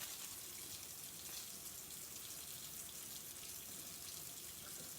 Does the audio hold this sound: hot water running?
yes